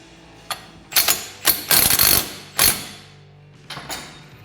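A nut being torqued on a mini bike flywheel gives a series of sharp metallic ratcheting clicks and clunks, five or six bursts spaced unevenly, close and fairly loud, with short pauses and no talk.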